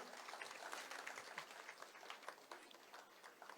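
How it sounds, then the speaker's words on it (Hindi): An audience at a school event claps steadily, dense and continuous but fairly quiet and distant, without voices over it. "तालियां बजती रहनी चाहिए।"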